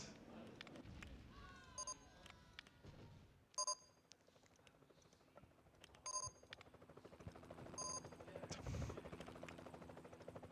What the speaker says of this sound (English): That's the helicopter of the Animal Protection Society,